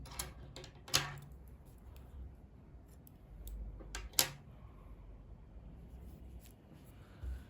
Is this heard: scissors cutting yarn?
yes